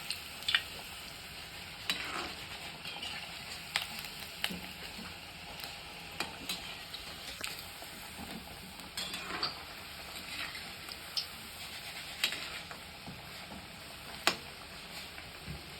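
Bajra flour vade deep-frying in oil over a low flame: a soft, steady sizzle broken by occasional clinks and scrapes of a stirring utensil, with no voices.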